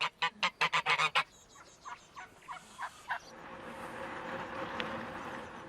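A rapid burst of loud, close honks from geese, followed by scattered quieter calls that fade into a rustling outdoor background.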